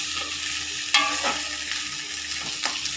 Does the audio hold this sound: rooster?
no